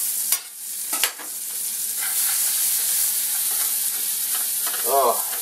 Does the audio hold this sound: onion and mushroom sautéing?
yes